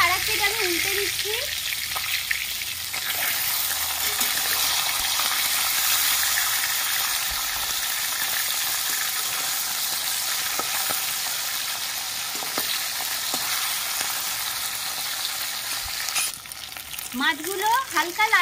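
Fish flipped to fry on its other side in hot oil in a wok, giving a continuous close sizzle with scattered pops and occasional scraping of a spatula, brief faint voice sounds near the start and end.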